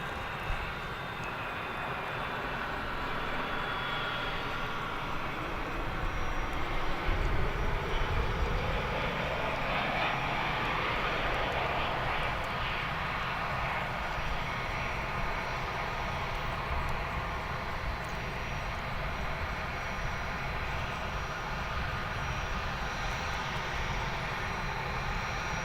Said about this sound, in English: And here it comes now. One of our final planes on Runway DFW this now Wednesday morning.